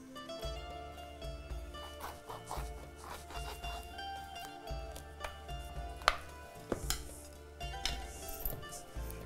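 Knife cutting a sour vitamin C fruit on a board in a kitchen for pachadi: steady, repeated close chopping taps with faint clinks of utensils, no talking.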